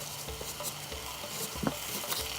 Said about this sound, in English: And we're going to add our onions that have been diced.